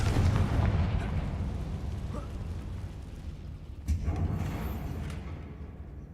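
A Confringo blasting spell from Hogwarts Legacy goes off as a continuous rumbling, crackling blast, with a second sharp burst landing midway before the roar slowly fades.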